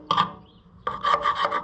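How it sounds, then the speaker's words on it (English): Carbide scraper rasping rust off a tractor axle on an Oliver 1550, with one short scrape, a brief pause, then several quick strokes close to the mic. "the carbide scraper does great for, like what we did a second ago, scraping this rust off."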